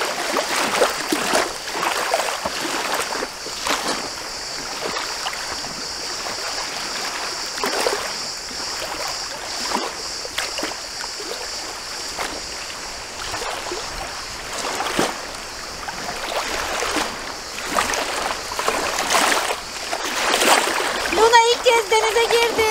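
An inflatable boat heads out onto the open sea from a secluded cove, with continuous water splashing and rushing against the hull, steady and fairly close, alongside occasional voices.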